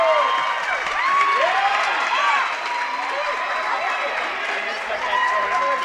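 Spectators in the bleachers at a girls' high school water polo match cheer and shout after a goal, a lively sustained crowd roar under a commentator's talk.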